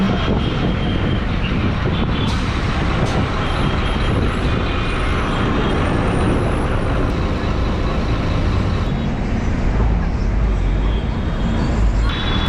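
A city bus rumbles steadily with heavy engine noise, a hiss of air brakes as it slows into the Madhavaram roundabout bus stop in Chennai, and muffled voices mixed into the din.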